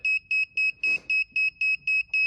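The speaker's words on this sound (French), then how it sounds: "Si j'appuie sur le buzzer, j'ai bien le numéro 4 qui apparaît." A quiz buzzer system sounds a steady series of nine short, loud electronic beeps at an even rhythm, close and alone, with a brief rustle partway through.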